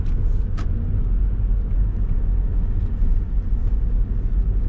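A 2007 Toyota Corolla Verso II with the 136 hp D4D diesel engine driving on the road, a steady low rumble of engine and tyre noise from inside the cabin, continuous with no talk over it.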